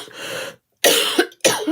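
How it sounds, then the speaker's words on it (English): Three harsh, close coughs come in quick succession, separated by short pauses, loud and raspy. "sorry about the coughing"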